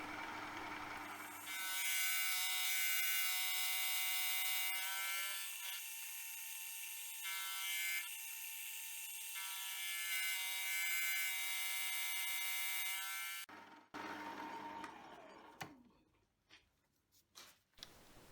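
A milling machine skims the excess metal off the clamped jaws of a homemade hand vise, giving a loud, steady whining cut with high harmonic tones for about twelve seconds before it stops and winds down with a few clanks.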